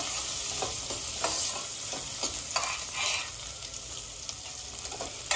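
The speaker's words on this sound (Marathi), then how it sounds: "आता घालूया बारीक चिरलेला कांदा, कांदा छान परतून घ्यायचा आहे" Finely chopped onion sautéing in oil for tava pulao, a constant gentle sizzle under repeated scrapes and taps of a spatula stirring in the pan, close and moderately quiet.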